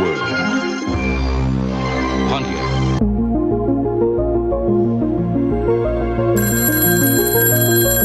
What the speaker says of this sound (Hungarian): Eric Dahlquist nyugati parti PR főnök asztalán csörög a telefon